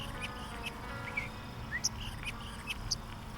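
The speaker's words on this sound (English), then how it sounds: "and now I have a bird" A pet bird gives sparse high chirps and tweets, a few short calls spaced irregularly over faint room hum, fairly quiet and close.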